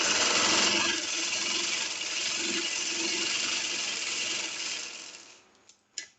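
A sewing machine runs a line of double stitching on a shirt, a loud steady close whirring that slows and stops near the end, leaving a few faint clicks.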